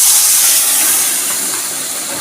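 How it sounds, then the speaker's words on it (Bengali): Water poured into a hot pan of fried rohu fish and taro curry, a loud, broad steaming hiss that starts at full strength and eases slightly over two seconds, heard alone. "এখন আমি পরিমাণ মতো জল দিয়ে দেবো।"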